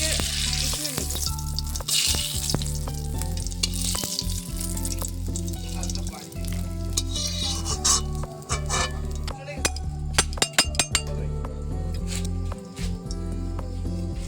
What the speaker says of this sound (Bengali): এবার তরকারিটা ঢেলে দিলাম